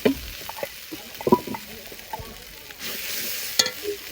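Chili paste and spices frying in a pot before meat goes in for a home-style meat curry, with a soft sizzle under sharp scraping stirs and clinks of a spoon, close by and uneven.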